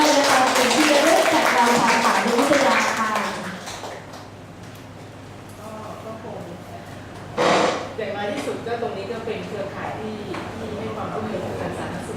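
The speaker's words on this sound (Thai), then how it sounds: "ขอเสียงปรบมือให้" Applause from an audience at a school toilet evaluation ceremony, a burst of clapping that fades partway through, followed by someone talking over a microphone in a reverberant hall.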